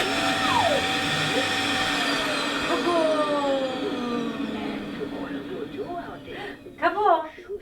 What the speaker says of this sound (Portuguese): Vamos passar o aspirador com a mamãe?